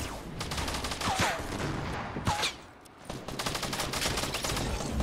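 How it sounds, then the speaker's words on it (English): Bursts of automatic gunfire from the video game Fortnite come in rapid volleys with short gaps between them, loud and dense throughout. "Bro, where am I getting shot at?"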